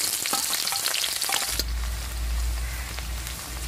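Onion, cumin and dried red chillies fry in hot mustard oil in a kadai, with a close, steady sizzle and some stirring clatter at first, then settling to an even hiss.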